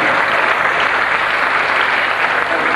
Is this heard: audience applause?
yes